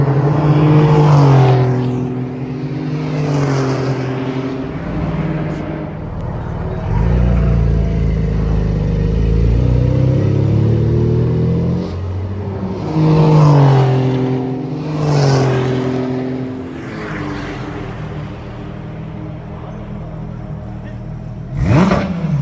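Porsche GT3 RS race cars lap the KMT track, engines rising and falling in pitch as they accelerate and pass. Several loud passes and revving swells come through over a steady engine drone.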